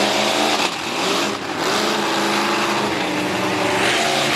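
A tough truck roars through a dirt racing run with something wrong in the drivetrain, its engine revving loud and constant up close for the whole stretch, with no talk over it.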